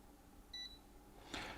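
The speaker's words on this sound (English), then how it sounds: "now it's beeped again" A Miniware MHP50 hot plate soldering station gives a single short, clear electronic beep, followed moments later by a brief soft rustle against quiet room tone.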